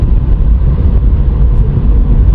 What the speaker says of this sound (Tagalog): lalo tuloy nagkakaroon ng traffic